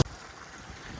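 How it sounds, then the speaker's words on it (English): Wind blows outdoors at Big Bend in Denver, where a DIY highbanker is being tested. A steady, broad rushing noise buffets the microphone after a brief click at the start, and no one speaks. "it's getting windy again"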